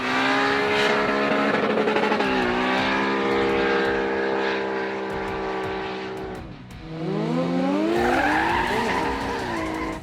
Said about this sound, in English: To Glenn's old school Celica.